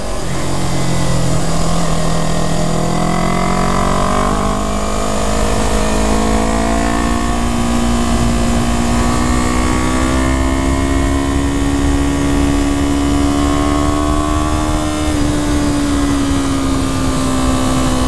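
A 2015 Yamaha R3 motorcycle's small, modified engine drones loudly and steadily while riding, its pitch slowly climbing and dipping with the throttle, wind noise underneath.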